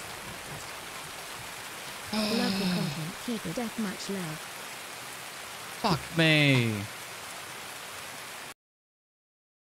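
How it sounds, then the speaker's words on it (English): Steady rain in a first-person shooter game, a constant hiss running under the whole clip while a player talks loudly over it, ending abruptly. "It's so fucking hard to hear anything with the rain too."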